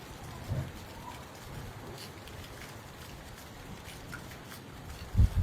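Rain falls in Abohar as a steady, soft patter and hiss of drops on surfaces, fairly faint and even throughout, ending in a brief low thump.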